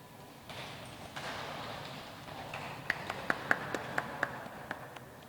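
Guests at a holy matrimony ceremony clap for the bride and groom, a soft, scattered patter that swells into several distinct, sharper claps toward the end, fairly faint in a large room.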